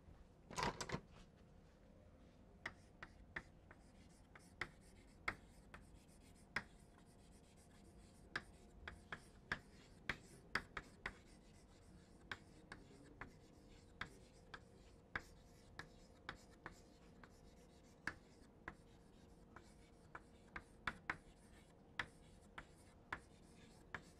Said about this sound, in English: I would like to write it so that you can take it home.